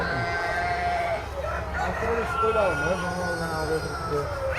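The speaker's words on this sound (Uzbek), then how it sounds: "Echkilar mana bor" Sheep and goats bleat with wavering, drawn-out cries over a steady low rumble, with voices mixed in.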